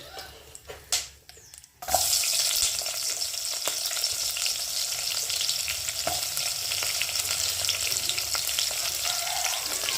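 After a few kitchen clatters, a loud steady sizzle of onions frying in a pan bursts in and continues, with faint stirring scrapes underneath.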